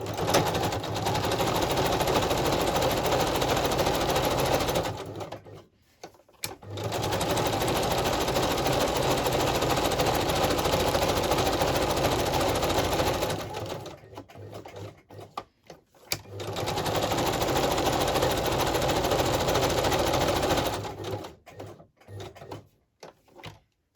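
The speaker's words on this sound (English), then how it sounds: "So I'm just going to stitch around this one just a sec. Oh, turn on the machine." A sewing machine stitching around a plastic lid runs in three long steady bursts of rapid needle chatter, stopping briefly between runs with a few clicks, loud and close with no talk.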